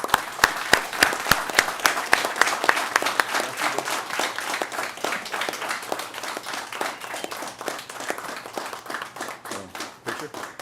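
A small group at a commission meeting applauds Detective Jimenez, individual claps distinct and sharp at first, then thickening into steady clapping that gradually thins toward the end.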